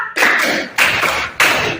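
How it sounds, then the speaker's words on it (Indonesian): Three loud, close hand claps in an Indonesian-language classroom lesson, evenly spaced about half a second apart with no voices between them. "Tepuk 1, tepuk 2, tepuk 3, tepuk 4, tepuk 5"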